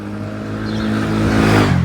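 A Ford Focus drives past on a hot street in Dalaman, its engine hum swelling and rising as it nears, loud and steady over steady road noise, with no talking.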